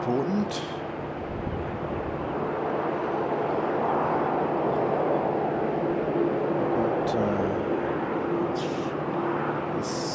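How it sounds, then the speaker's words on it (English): A plane coming in to land at Sydney airport drones with a steady, broad roar that swells gently, heard at a distance, while someone talks over it throughout. "Aircraft coming in."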